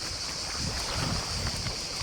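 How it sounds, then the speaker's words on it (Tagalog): Strong seaside wind buffets the microphone in a steady, loud roar along a Croatian shore, with no other distinct sounds. "Lakas ng hangin."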